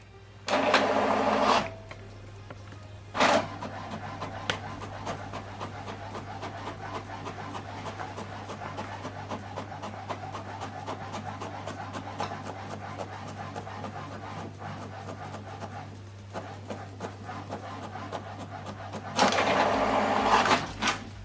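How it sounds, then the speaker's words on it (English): A printer fed from a laptop prints document pages. A continuous mechanical whirring runs with rapid ticking, and louder rushing surges of paper feed come at the start, near three seconds and again at the end. No one speaks. "So now printing this document page 2 and 3."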